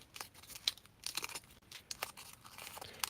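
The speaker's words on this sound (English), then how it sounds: "We can take this and we're going to crumple it." Paper crumpled by hand during a crafting session, giving a run of crisp crackling and crinkling bursts in irregular rhythm, close and fairly quiet with no talk.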